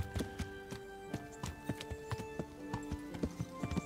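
Horse hooves clip-clop at a quick, uneven trot in the video game Kingdom Come: Deliverance, a string of faint, close taps with no talk over them.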